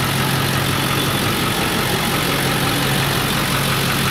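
A truck with a 7.3 engine idles in a steady, even rumble that holds unchanged throughout, with no voices.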